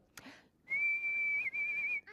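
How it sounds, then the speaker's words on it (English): A person whistles one long, high, steady note for well over a second, with a slight wobble near the end, close and clear after a brief breath, followed by a short voice. "Can you whistle?"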